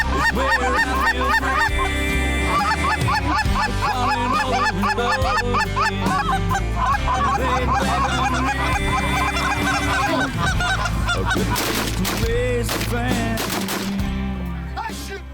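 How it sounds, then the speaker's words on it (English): Canada geese honk loudly and nearly continuously in a dense flock, with a rapid volley of shotgun blasts breaking in near the end during a waterfowl hunt. "Canada geese"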